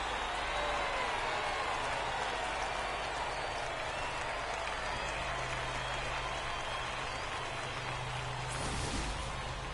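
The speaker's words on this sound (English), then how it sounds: "the home crowd has really come to life here in the bottom of the 8th" A home baseball crowd at a minor-league game roars after a two-run homer in the bottom of the eighth, a continuous broad wash of distant cheering and clapping that holds steady throughout.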